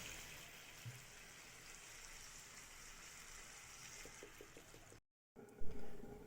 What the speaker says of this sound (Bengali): এবার পরিমাণ মতো জল দিয়ে দিলাম